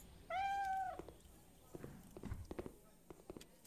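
A cat in Cafe Owner Simulator lets out one clear, drawn-out meow up close, followed by a run of soft footsteps and light taps at low volume.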